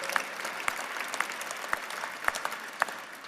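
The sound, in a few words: audience applause for film crew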